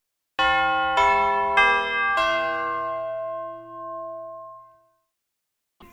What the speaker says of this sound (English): So I just decided to put a bell there for no reason.